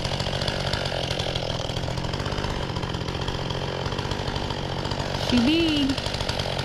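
A chainsaw runs steadily at high revs while cutting a good-sized tree, loud and continuous throughout, with a brief voice rising over the engine near the end.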